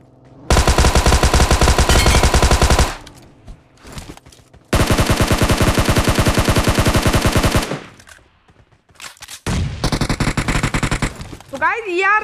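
Sustained bursts of machine gun fire from a video game tear into a vehicle, loud and continuous in three long volleys separated by short pauses.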